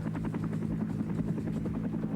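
A Vietnam War military helicopter flies close by, its rotor thumping in a fast steady rhythm under a constant loud engine drone that never lets up, with no talking.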